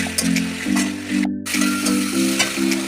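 Turmeric, chilli and coriander powder fry with spice paste in a hot pan, giving a loud close sizzle with a wavering hum and scraping as the mixture is stirred, broken by a brief gap.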